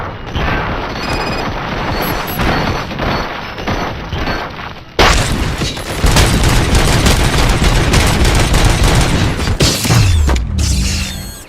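Gunfire in the video game RoboCop Rogue City: loud bursts of automatic fire and heavy booms, crashing and mechanical clatter, with a sharp cut partway and a deep falling boom near the end.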